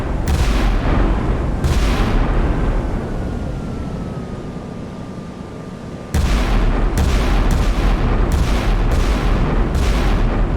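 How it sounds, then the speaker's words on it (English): An Iowa-class battleship fires a salvo from its 16-inch guns in the naval game Sea Power. Heavy booms crack out in a quick cluster, with a lower rumble and a fading whine between the shots. "12 16-inch shells on their way over 20 miles."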